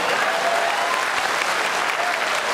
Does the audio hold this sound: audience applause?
yes